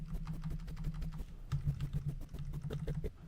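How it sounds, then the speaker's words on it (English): Arrow keys on a computer keyboard are pressed in a rapid, steady run of close, crisp clicks, with a faint voice in the background of an interview being scrubbed through. "then we could use our arrow keys on our keyboard just to arrow back."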